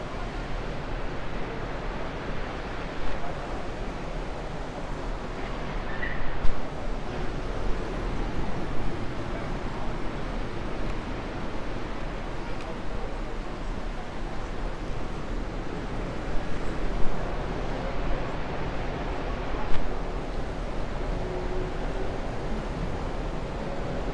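Waves at Myrtle Beach at night make a steady, broad rushing wash, with occasional slightly stronger surges as surf breaks and recedes, heard alone with some wind buffeting.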